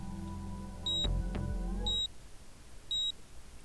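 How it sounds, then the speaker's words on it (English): Three short, high electronic beeps from a PDA in the video game 428: Shibuya Scramble, spaced about a second apart, clear and close, over a low background hum. "A tiny beeping sound caught Kano's attention."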